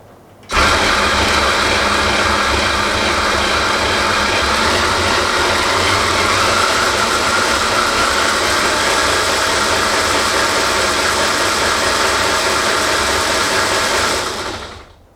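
Motors and gears of a DIY WASD-controlled tank run at 24 volts, producing a loud, continuous mechanical whine and gear grind that starts abruptly, holds steady for about fourteen seconds, then cuts off.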